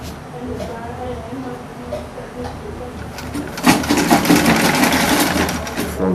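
A sewing machine runs stitching a piece of African native men's wear, buba and sokoto, its mechanical hum growing louder and busier in the second half, close by with some background noise.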